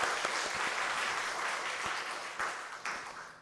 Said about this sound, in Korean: 우리 3조를 위해서 다시 한번 박수로 큰 우리 격려해 주시기 바랍니다